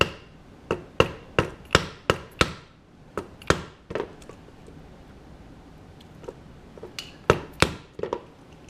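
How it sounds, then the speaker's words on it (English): A hole punch is hammered through leather while making an unlined leather bag: a rapid series of sharp, close wooden-sounding strikes, a pause, then a few scattered blows and a final pair of hits. "So now I'll take this, I'll punch me a hole."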